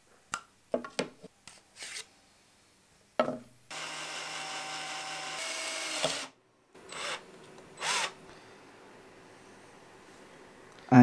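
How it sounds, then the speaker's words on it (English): A drill bores a hole in a wooden katana handle, with a steady whir of roughly two seconds, then short scraping and knocking sounds from handling the wood around it. "I drilled just next to the mark, so when I'll put the dowel in place, it will tighten everything very tight."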